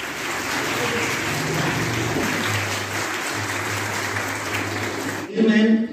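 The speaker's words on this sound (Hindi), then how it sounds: "जोरदार तालियां बजा दीजिए प्लीज" Applause from the audience at an International Women's Day event at a women's degree college in Kathua, steady sustained clapping throughout with a low hum beneath, ending abruptly in a short musical tone.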